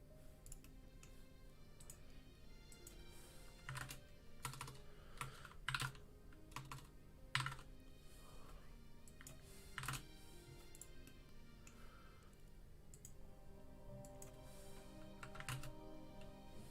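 Keys on a computer keyboard clatter in quiet, irregular bursts of clicks and taps, with short pauses between flurries of typing, heard faintly and close.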